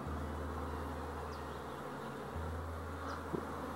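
Honey bees buzz steadily around a hive outdoors in cloudy weather, a continuous close drone with a few individual bees passing nearer and fading.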